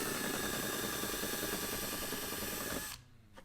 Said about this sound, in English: So I just drilled out my hole for my switch.